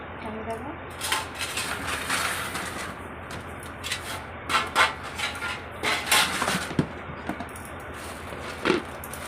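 Dishes and cutlery clink and tap irregularly at a meal while people talk and eat, with scattered sharp knocks and scrapes rising over the conversation.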